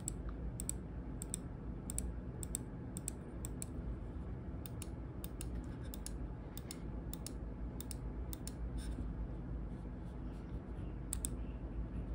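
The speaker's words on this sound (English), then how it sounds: "The click is satisfying, the sound is crisp and clear." Button clicks from a GravaStar Mercury M2 wireless gaming mouse, sharp crisp clicks repeated in quick irregular bursts over a steady low background hum, close and fairly faint.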